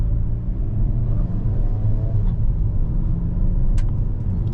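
Inside a 2023 Hyundai Kona N going over bumps, a steady low road rumble and tire drone fill the cabin, with a few faint knocks from the firm suspension.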